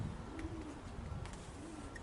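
Racing pigeons coo softly in a loft, low murmuring calls repeating faintly against a noisy background with a few light chirps.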